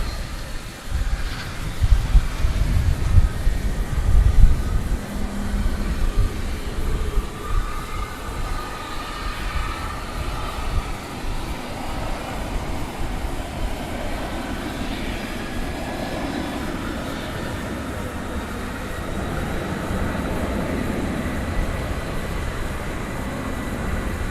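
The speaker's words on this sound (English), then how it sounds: "It is a 19-year-old Airbus A300." A 19-year-old Airbus A300 airliner at DFW Airport at night, bound for Rockford, with a broad, steady engine roar and rumble sustained at middle distance throughout.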